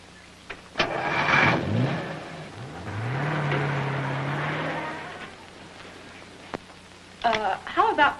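A car engine in a 1942 film cranks, catches and pulls away with a broad, rising roar that settles into a steady drone before fading, and voices briefly speak at the end.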